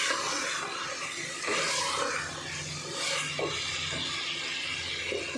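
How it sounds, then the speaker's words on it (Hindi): Water goes into frying keema and potatoes in a pan, a steady rushing sizzle and splash with a few surges, heard up close without talk. "इसमें मैं थोड़ा सा डाल लूँगी पानी, तकरीबन आधा गिलास या पौना गिलास में पानी डालूँगी इसमें।"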